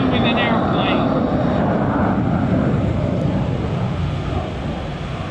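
An F-35B Lightning II fighter jet roars loudly and continuously through an airshow demonstration, a dense broad engine rumble filling the whole span.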